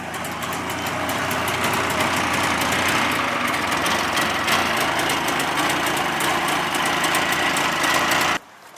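The two-stroke engine of a 1970 Subaru 360 idles steadily with a buzzy, rattling drone, loud and close, then cuts off abruptly near the end.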